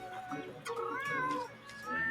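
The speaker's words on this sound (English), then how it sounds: "And this is Senri, a cat." A cartoon cat in the Monster Hunter Rise video game meows, a clear rising and falling mew in the middle of the clip, close and fairly loud over soft background game sound.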